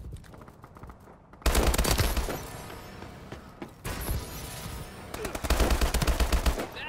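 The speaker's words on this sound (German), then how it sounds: "Werde hier beschossen." Automatic weapon fire in Call of Duty Advanced Warfare multiplayer Domination on PS4, long loud rattling bursts of rapid shots close by, pausing briefly and then resuming with another sustained volley.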